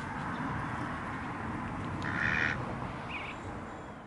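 A duck gives a couple of short, nasal quacks at mid distance against a steady wash of outdoor background noise.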